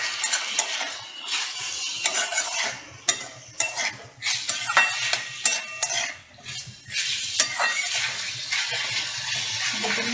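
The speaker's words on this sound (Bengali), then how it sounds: "ফ্লেমটা একটু জোরে দিয়ে ভালো করে নাড়াচাড়া করে আমি এবার এটা নামিয়ে নেব।" A spoon scrapes and clatters through ash gourd and chickpea curry in a pan over a high flame, stirring briskly and repeatedly under a soft background sizzle.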